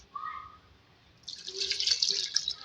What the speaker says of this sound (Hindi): इसमें 2 गिलास पानी ऐड करूँगी